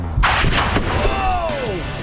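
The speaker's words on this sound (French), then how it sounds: "On va déclencher la deuxième explosion à 20 mètres." An underwater explosion set off 20 metres from sensors gives a sudden loud boom followed by a rushing, roaring spray of water that tails off over the next second and a half, with a faint tone sweeping downward beneath it.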